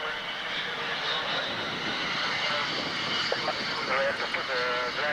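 A Lockheed Constellation airliner, callsign Corsair, taxis at Lakenheath with a steady, continuous engine drone held at an even level throughout, while voices talk over it.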